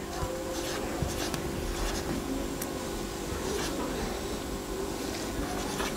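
Soft pen scratching on paper while a balance sheet for a not-for-profit organization is worked out, heard as quiet intermittent strokes against a faint steady background hum.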